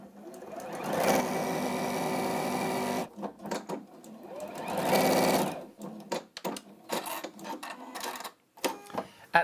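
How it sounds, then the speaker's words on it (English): An Elna 720 PRO sewing machine stitching a seam whirs in two sustained runs with a pause between, followed by softer clicks and handling sounds near the machine. "You just fold those to the edge there and you sew to the end."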